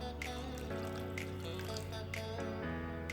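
Water runs steadily into a pan of steak mince, a continuous trickling, splashing flow that stays fairly close and even throughout, with no voices.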